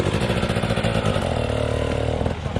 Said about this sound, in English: Just wait till that bike's gone.